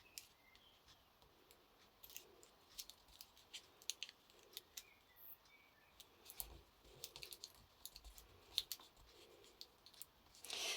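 Scissors snip a small piece of paper for a pocket letter, giving a series of faint, close, crisp cuts and clicks in a quiet room.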